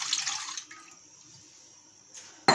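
Orange juice mixed with cornflour poured into a pan: a soft liquid splash and trickle up front that fades into a faint wet hiss, ending with a brief sharp clatter, no talking.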